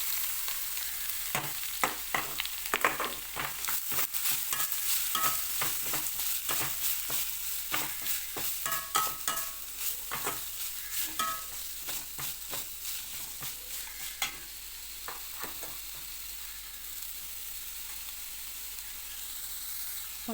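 Gooseberries frying in oil with chana dal, dried chilies and curry leaves, sizzling steadily while a spoon scrapes and taps the pan in quick bursts, the stirring stopping near the end as the hiss carries on alone.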